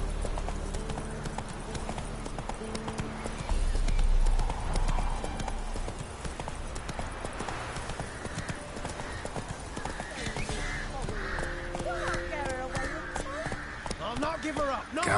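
Horse hooves clip-clop at a gallop in The Witcher 3, a rapid and fairly close rhythm of beats with game music and speech running over them.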